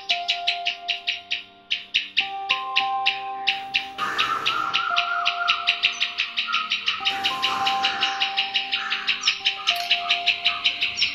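Soft repeated calls from a male dove, rhythmic cooing and chirping notes close by, with a steady tonal hum underneath and a brief rustling burst midway.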